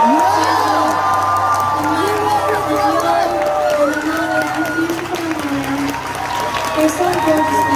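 A concert crowd cheers, whoops and claps loudly in a sustained, dense roar with high shouts rising over steady applause, heard close throughout.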